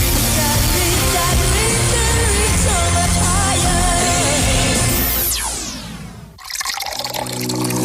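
Water pours and trickles from an Enagic Kangen water purifier, a steady liquid splash with bubbling filling tones, then a rising sweep and a brief drop before the flow resumes.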